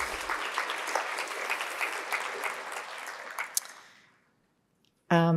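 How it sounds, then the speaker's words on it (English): An audience at a kidney care conference claps steadily for about four seconds before the applause fades out, and a voice starts speaking just after. "that deserves a clap"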